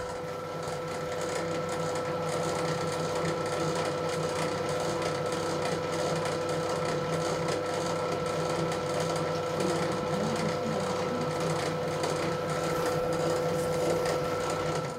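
A grinding mill in a pastel workshop processes wet, semi-liquid pigment paste, giving a steady mechanical hum with a constant whirring tone and light clatter throughout, heard alone without talk.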